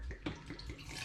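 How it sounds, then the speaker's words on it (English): Home-brewed dandelion and burdock hard cider poured into a hydrometer tube, heard close up as a steady, unbroken splashing pour of liquid lasting about a second. "So I'm going to pour some into the hydrometer tube"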